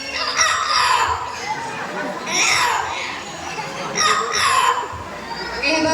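A talking bird mimicking a rooster's crow at a bird show, with repeated crowing-like calls rising over a noisy crowd of chattering adults and children.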